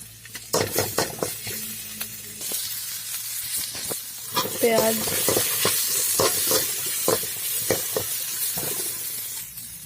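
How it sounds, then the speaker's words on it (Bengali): Ginger and garlic fry in oil in a wok for a pea (motor) dish, a bright sizzling hiss beneath sharp spoon scrapes and knocks against the metal, close and busy, with a faint voice briefly in the background. "এর মধ্যে দিয়ে দেবো তেল, আদা, রসুন"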